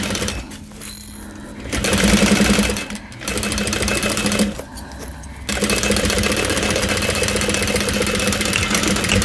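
Sewing machine stitching a 3/8-inch seam on a bowler bag: a loud, steady motor whir with rapid needle chatter, running in long bursts separated by two brief pauses.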